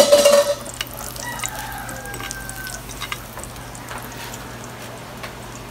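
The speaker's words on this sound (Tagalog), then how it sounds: "hotdog niluluto" Hotdogs fry in a pan on an outdoor home kitchen stove, with a short loud clatter of utensil against the pan at the start, then a faint steady sizzle with light scrapes and a rooster crowing in the distance.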